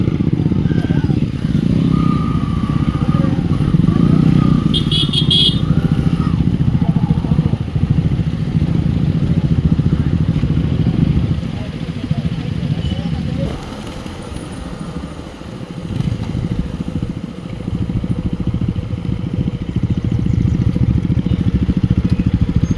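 Motorcycles of a bikers club being parked near a hill, with continuous rumbling engines idling and revving close by alongside clatter, while people talk over the noise.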